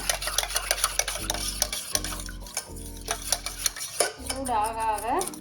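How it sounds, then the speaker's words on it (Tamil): Hot chocolate mixture stirred in a pan on the stove, a spoon knocking and scraping the metal in an uneven rhythm of clinks and rubs, close up, with a brief whisking swirl toward the end. "ஆன் பண்ணிவிட்டு இதை நல்லா மிக்ஸ் பண்ணுவேன்"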